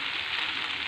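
Noodles fry in a wok, a steady soft sizzle heard alone for a brief moment.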